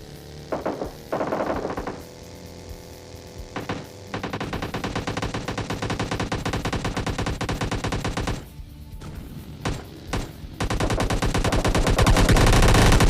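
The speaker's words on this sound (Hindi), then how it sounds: "और स्टेडियम से जरा गन शॉट्स की आवाज सुनो आप लोग" Rapid bursts of automatic gunfire from a stadium area in a battle-royale video game, loud and dense, running almost continuously with brief pauses between strings of shots.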